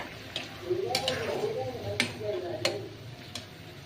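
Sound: stirring mola fish curry in a pot

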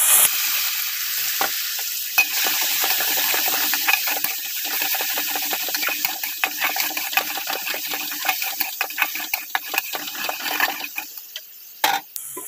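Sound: spice paste frying with black cumin in a wok

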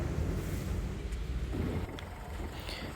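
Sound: tractor engine running while sowing

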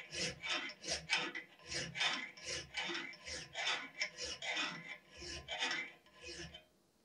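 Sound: 10mm round file filing plunge lines on forged knife blade

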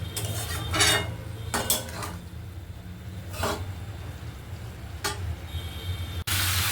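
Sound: stirring paneer and cauliflower curry in a pan

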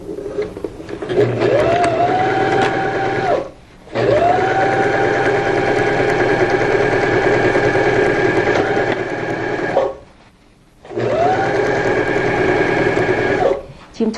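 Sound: sewing machine stitching the top panel of a pillow

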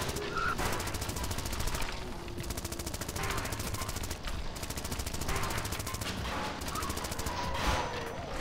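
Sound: machine gun fire in Zombie Driver video game

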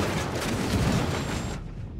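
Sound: helicopter explosion in the video game Ghost Recon

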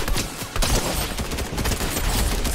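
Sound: gunfire from a gun in a GTA roleplay video game

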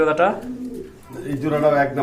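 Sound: pigeons cooing

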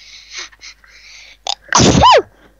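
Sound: sneeze

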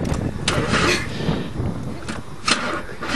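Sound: engine of a 1994 Chevrolet Cavalier trying to start

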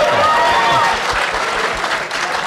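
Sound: audience applause and cheering at a debate

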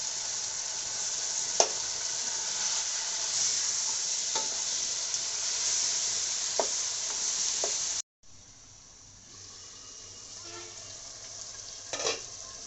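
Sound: fish head frying in pan

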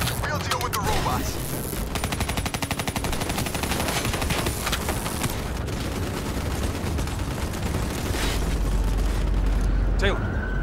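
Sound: gunfire in Call of Duty video game

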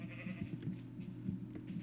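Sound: sheep bleating in Minecraft video game

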